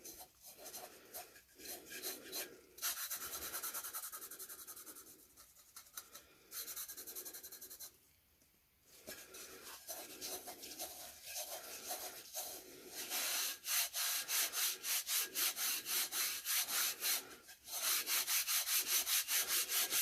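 Glitter rubbed by hand onto a tumbler coated with Tack-It, a close, dry, scratchy rubbing in quick repeated strokes that grows steadier and more vigorous toward the end, no talk.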